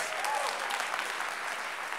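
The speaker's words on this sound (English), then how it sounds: "Give yourselves a round of applause." An audience at a design leadership summit applauds, a sustained wash of clapping holding steady and fairly loud throughout.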